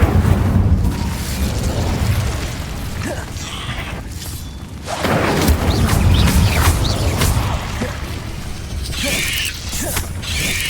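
Fiery spell blasts from the Incendio fire charm in the video game Hogwarts Legacy, with loud bursts near the start, middle and end over constant clanking, rumbling game ambience.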